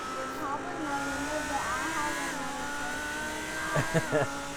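Race cars run the Daytona high banks at night, engine tones rising and falling steadily through the clip with a few sharper bursts near the end, while people talk over the din.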